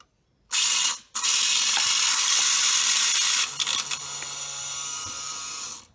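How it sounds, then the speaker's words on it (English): Rebuilt windshield washer pump priming: a loud, steady, close mechanical whir and rattle that cuts out briefly near the start, then runs on with a slightly lower, rougher tone toward the end. "Gotta prime the pump."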